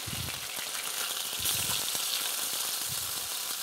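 Chicken browns in a frying pan for lemon chicken pasta, a steady close hiss of sizzling with faint bubbling and a few soft rattles, no voices.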